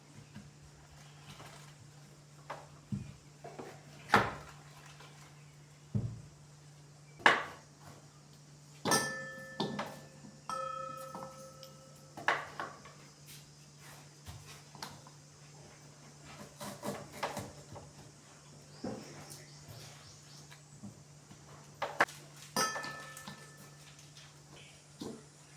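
A knife cuts a washed raw mango into small pieces on a board, making scattered sharp taps and thuds at an irregular pace over a quiet background.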